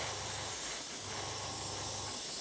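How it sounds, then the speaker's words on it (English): Steady airbrush hiss of Humbrol acrylic dropper paint being sprayed, a continuous close, even spray with no voices. "That's spraying with these Humbrol dropper paints"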